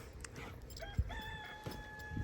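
Chickens and a rooster kept at a home with many children, heard as a brief clucking and a short crow rising partway through, moderately close against steady background noise.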